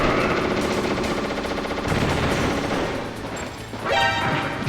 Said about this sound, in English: God, the grenades are so janky.